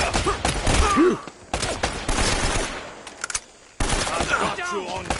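Rapid bursts of gunfire from a PS4 shooter game, loud and close, coming in several clusters separated by brief pauses, with a voice shouting over the shots.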